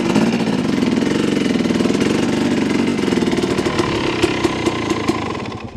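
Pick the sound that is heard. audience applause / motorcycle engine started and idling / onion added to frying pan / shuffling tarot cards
motorcycle engine started and idling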